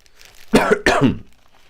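Two loud, harsh coughs in quick succession, close by, followed by quiet.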